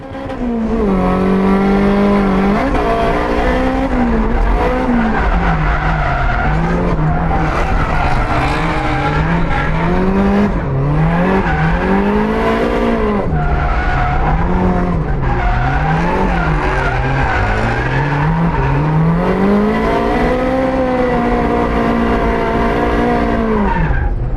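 A turbocharged Toyota AE86 drifts in tandem at a FuelFest event in Phoenix, its tires squealing in long wavering howls that rise and fall with the car's sweeps, over a loud continuous engine drone close by; no talking.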